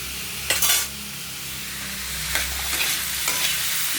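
A thin fish curry of small carp with drumsticks, pointed gourd and potato cooks in a pan, a steady close sizzle and bubble with a few scraping stirs of a spoon breaking through.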